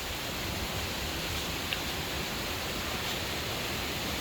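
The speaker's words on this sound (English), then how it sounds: "Very, very windy." Strong wind roars steadily outdoors as a dense, unbroken rush of broadband noise, loud and close throughout with no voices over it.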